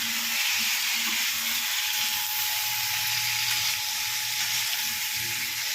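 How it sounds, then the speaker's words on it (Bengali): Potato and green pea curry fries in a pan, a loud, steady sizzle and hiss that runs unbroken throughout, close by with no talking. "আলু মটরশুটির তরকারি হচ্ছে"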